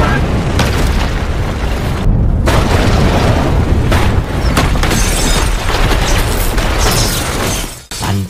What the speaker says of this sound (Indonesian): setelah reaktor meledak